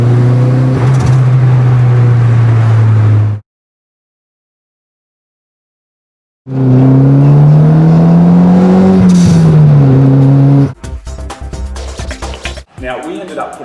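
A turbocharged Nissan GTI-R car engine with a Turbosmart blow-off valve revs hard and holds, cuts out to silence, then revs again with pitch rising and falling before sharp, fluttering bursts and hiss as it drops.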